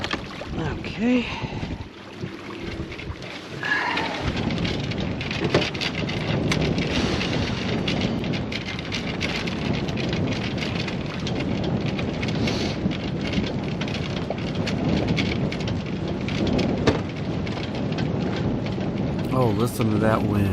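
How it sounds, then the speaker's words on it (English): Strong wind roars steadily around a sailboat under sail, a loud, continuous broadband rush with gusty surges and water splashing, a voice briefly audible near the start. "Oh, listen to that wind."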